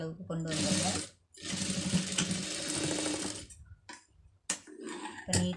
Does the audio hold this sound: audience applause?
no